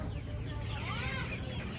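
Chickens at a village poultry farm cluck close by in a short burst of overlapping calls over a low background rumble.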